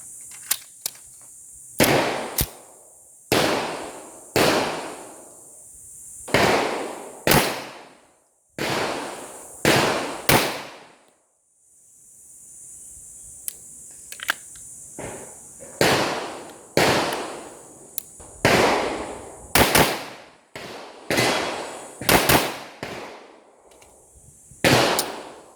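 Standard division competition pistols fire at a shooting range, with sharp, loud single shots and quick double taps repeating at irregular intervals, each crack trailing into a short echo.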